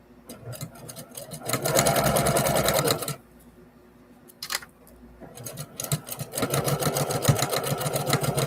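A sewing machine stitches a new quilt in close, steady whirring runs, with a loud burst, a pause broken by a brief whir, then another long stretch of continuous stitching.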